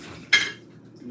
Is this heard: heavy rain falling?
no